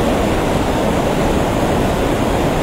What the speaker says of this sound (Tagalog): Napakalakas ngayon ang agos ng tubig.